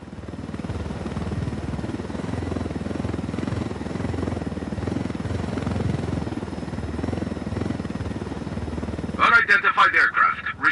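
Helicopter in the video game Ghost Recon Wildlands, a steady rotor and engine rumble running throughout, with a voice breaking in near the end.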